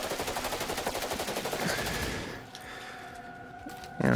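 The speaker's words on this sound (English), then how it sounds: "Like with the pistol, you can shoot as fast as you can pull the trigger" Rapid pistol fire in the VR shooter Synapse on PSVR 2, a fast regular string of shots for about two seconds, then quieter ambient game sounds and a sharp burst at the end.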